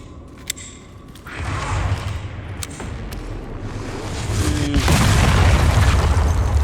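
Deep rumbling booms of mortar fire in the Resident Evil Requiem game, heavy low thuds swelling in waves with a sharper crack midway, loud and sustained with no talking.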